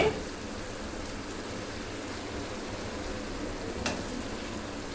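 Paneer cooking with spices in a pan over low-to-medium heat, a soft continuous sizzle with a faint scrape near the end, close and steady.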